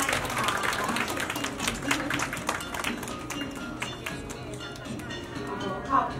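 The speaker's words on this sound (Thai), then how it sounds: "ขอเสียงปรบมือให้กับตัวอลัง" Audience claps for performers at a Bangkok anniversary show. Steady, moderately loud clapping from a crowd continues throughout, with an amplified voice speaking over it and a sharp accent near the end.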